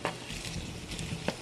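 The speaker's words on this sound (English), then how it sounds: "it's already starting to sizzle" Turkey SPAM sizzling in a pan over medium-high heat, a steady broadband fry hiss with a few light clinks of a utensil against the pan.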